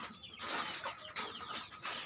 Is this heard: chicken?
yes